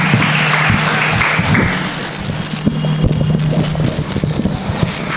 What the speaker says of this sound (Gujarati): જોરદાર તાળીયા બેન માટે